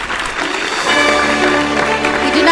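An audience applauds at an award ceremony for scientists. The clapping is dense and continuous, swells slightly louder partway through and stays steady to the end, and there is no talk over it.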